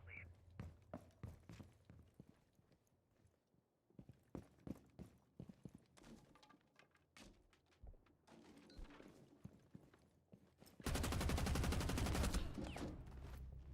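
Gunfire in the video game Delta Force: scattered single shots and short bursts crackle through the first stretch, then a loud, dense, sustained volley of rapid fire dominates the final seconds.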